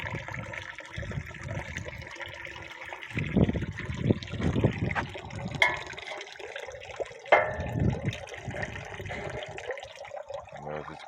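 Water runs and trickles from a tap that has started dripping, a steady splashing flow with irregular gurgles and drips, close by, with people talking at times over it.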